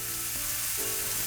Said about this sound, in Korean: 가장 먼저 마늘과 대파 그리고 청양고추를 볶아줍니다.